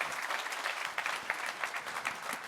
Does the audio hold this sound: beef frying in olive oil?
no